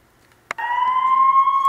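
A police siren cuts in after a brief click and holds a loud, steady tone to the end.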